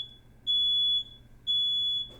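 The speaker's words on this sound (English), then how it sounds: "We got a fire alarm going off." A fire alarm sounds indoors with two sustained, piercing electronic beeps of about half a second each, separated by a short gap, loud and close with no talk.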